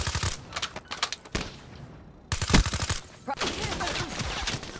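Gunfire in the video game Call of Duty: Black Ops 3, rapid bursts of shots loud and close, separated by brief lulls and mixed with other game sounds.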